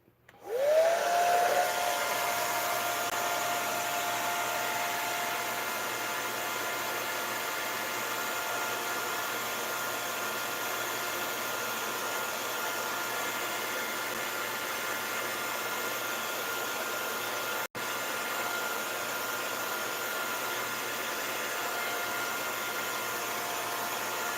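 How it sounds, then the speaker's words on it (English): A hair dryer blows steadily and loudly for the whole stretch after a brief start-up, with one momentary click near the end. "I know it's not very exciting watching a hair dryer go across the screen"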